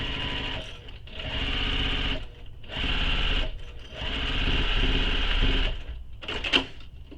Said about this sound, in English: Now sew the bottom of your pocket closed with the seam allowance given in the pattern